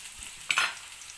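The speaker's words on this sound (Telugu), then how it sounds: "ఫస్ట్ పచ్చిమిర్చి ఆనియన్ వేసాను కాబట్టి ఈ పప్పులు కూడా ఫ్రై అయ్యేంత వరకు ఉండనియాలి" Lentils fry in hot oil with green chillies and onion, giving one brief, soft sizzle and stir in an otherwise quiet kitchen.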